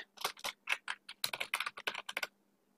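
Rapid typing on a computer keyboard while writing Python code, a steady run of close, crisp key clicks with brief pauses, heard alone.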